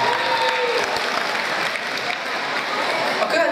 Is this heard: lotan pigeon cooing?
no